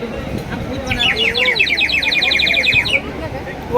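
A water-filled ceramic bird whistle at the Kala Ghoda Art Festival 2025 warbles in a rapid trilling burst of chirps lasting about two seconds, heard close and loud amid faint crowd murmur.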